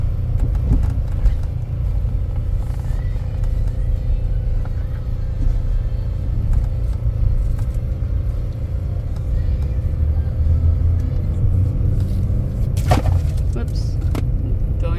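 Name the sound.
2013 Buick Encore driving on the highway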